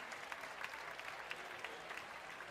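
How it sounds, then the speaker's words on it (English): A crowd applauds competing teams after a heat at a CrossFit Games semifinal event in Europe, a faint, continuous wash of clapping with scattered sharper claps, heard from a distance. "A big round of applause for our teams of Heat"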